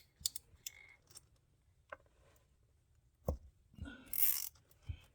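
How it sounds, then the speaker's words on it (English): A few sharp plastic clicks, then a quick ratcheting zip as a zip tie is pulled tight, close and fairly quiet. "That's the sound of a zip tie zipping"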